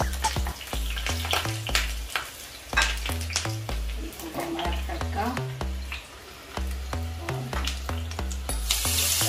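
Finely chopped ginger and green chillies sizzle and spit in hot ghee, a steady frying crackle with occasional utensil clinks, running under rhythmic background music.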